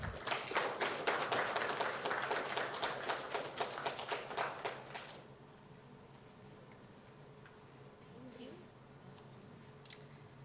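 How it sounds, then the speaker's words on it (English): An audience claps in steady applause for about five seconds, then it stops abruptly, leaving a quiet room with faint rustles. "Let's give her a warm round of applause."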